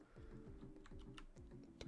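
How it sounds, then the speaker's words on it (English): Keyboard keys clicked in short bursts during play of an indie game jam submission, light taps scattered over looping background game music, no voices. "Okay, so you press a key from each row"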